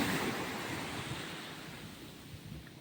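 Sea waves at Chandipur beach washing ashore in a soft, distant, continuous surf hiss, faint and wind-blown, with no voices.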